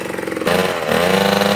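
Dirt bike engine bogging down at low RPM, a close, steady mid-pitched drone that drops in tone and then holds a rough, laboring chug without any voices.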